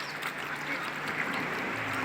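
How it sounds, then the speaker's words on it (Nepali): Ducks swimming on water give off a few quacks over a steady outdoor wash, with no one talking. "यहाँ हाँस त मजासँग पौडी खेल्न आएको छ"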